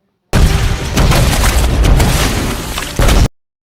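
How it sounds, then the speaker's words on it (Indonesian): A loud, sudden explosion in a film bursts out and rumbles heavily for about three seconds, then cuts off abruptly. "tubuh yang sudah dipenuhi dengan gas pun meledak"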